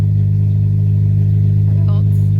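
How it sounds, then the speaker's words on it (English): A 2003 Honda Element engine with its catalytic converter missing idles with a deep, loud droning rumble, steady throughout, with a faint voice briefly audible near the end. "You want to hear what a Honda sounds like without a catalytic converter?"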